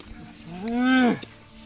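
A buffalo tied in a stable lets out a single long, loud moo that rises and falls over about a second, with faint background noise around it.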